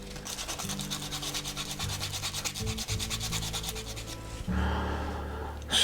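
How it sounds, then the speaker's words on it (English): Coarse sandpaper rubs rapidly back and forth over a hand-carved wooden crankbait lure, producing a close, rhythmic scratching that shifts to a denser steady rasp near the end, with no voices. "we're down to the point where we can use some coarse sandpaper on it"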